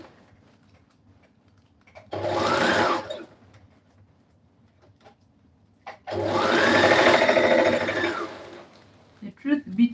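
A sewing machine stitches a long blazer jacket in two bursts, a short run and then a longer steady whir, separated by quiet pauses, close and clear with faint clicks at the end.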